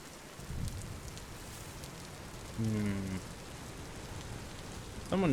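Steady rain in the Vintage Story video game, a soft, continuous hiss of falling drops at low level, broken by a couple of short, brighter tonal game sounds.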